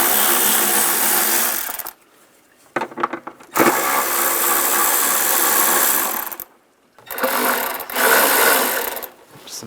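Power tool whirring through repeated bursts while timing cover bolts come out with a 10mm socket on a 1996-2002 Toyota 4Runner engine during a knock sensor replacement, with loud runs broken by short pauses.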